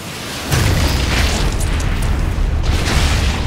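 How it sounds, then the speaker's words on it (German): A grenade detonates in the shooter game Sniper Elite 5, a sudden loud boom that swells into a heavy, sustained roar with low rumble and debris noise lingering for seconds. "Granate kommt!"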